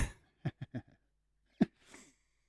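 A sneeze, not a normal one, breaks a quiet room: a few short sharp bursts lead to a louder final burst and a faint breathy tail.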